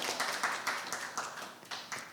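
Brief scattered clapping from a seated audience at a Buddhist psychology talk, a few hands patting in loose rhythm for a couple of seconds, soft and somewhat distant, with no speech over it.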